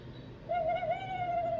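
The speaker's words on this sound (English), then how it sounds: "owl," An owl gives a single sustained, hollow hoot lasting over a second, clear and moderately loud above a soft background hum.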